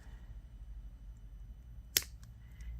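A single sharp snip of scissors cutting off the end of beading wire on a woodland critters earring, one brief faint click in a quiet room, nothing else heard.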